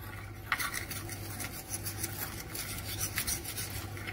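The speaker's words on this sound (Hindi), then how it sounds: "इसमें सिर्फ डालेंगे दूध 2 टीस्पून और इसे मिक्स करेंगे।" Icing sugar stirred with a little milk in a bowl to make a donut glaze, giving a continuous close scraping and rubbing of a spoon against the bowl, steady throughout with no talk.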